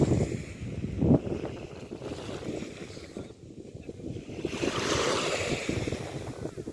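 Sea waves roll in at Al Mamzar Beach in Dubai, with a steady wash of surf and gusts of wind buffeting the microphone. The surf swells louder toward the end, and a boat may pass in the distance.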